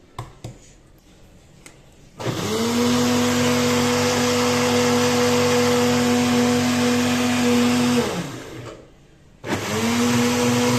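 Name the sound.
electric blender running, blending mango for pancake batter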